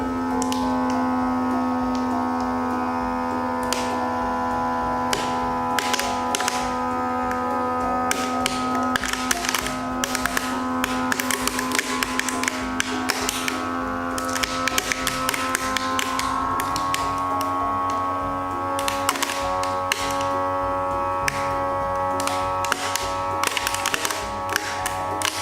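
A Food Saver vacuum sealer runs with a steady motor hum as it pumps air out of a bag, holding a constant drone throughout with scattered light taps and clicks over the top.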